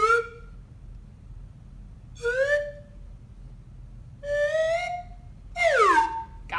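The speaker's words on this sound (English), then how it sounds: "Slide whistles are great for exploring high sounds and sliding down to low sounds" A toy slide whistle plays four separate clear glides, sweeping between high and low pitches with short quiet gaps between them, close and alone.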